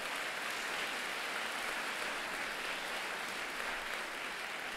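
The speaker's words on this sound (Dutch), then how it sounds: "Gaat u staan, geef haar ook een applaus." A church congregation applauds in a continuous, dense wash of clapping that holds steady throughout, heard from within the crowd.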